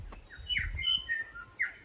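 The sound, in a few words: bird calling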